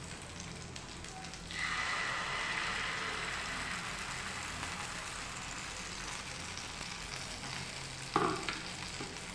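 A ladle of chira (flattened rice) and semolina batter hits a hot pan, setting off a sudden loud, continuous sizzle that holds steady. A brief clatter comes near the end.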